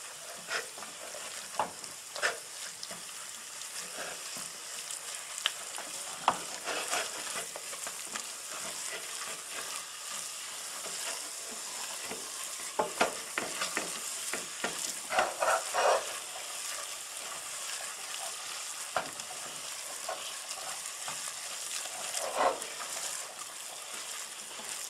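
Butter and flour sizzle steadily in a hot pan as a roux for a mushroom and tarragon velouté, with a spoon scraping and stirring through it in scattered close taps over a constant frying hiss.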